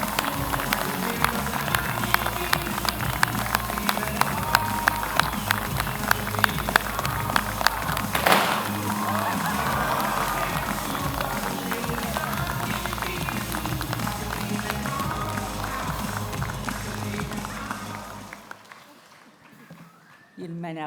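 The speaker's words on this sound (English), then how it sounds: "Everyone join me in a worthy round of applause." An audience at a Massey University graduation ceremony in Manawatū claps in a dense, sustained round of applause that later fades away.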